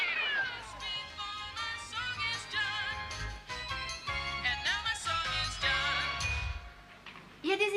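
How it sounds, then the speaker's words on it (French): A cat meows repeatedly in rising and falling tones, fairly close, with faint tinkling in the background, in an Animal Crossing game recreation. "Oh, le petit chat."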